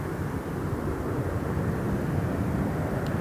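Spirit Airlines airliner landing on the runway at Las Vegas Harry Reid International Airport, a steady, broad engine roar heard from a distance that stays even throughout.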